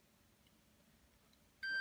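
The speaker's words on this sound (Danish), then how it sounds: "indtil den siger bip" A Segboard self-balancing board gives a single short electronic beep when its power button is held down to start calibration, clear against a quiet room near the end of the clip.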